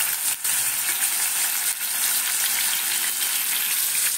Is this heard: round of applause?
no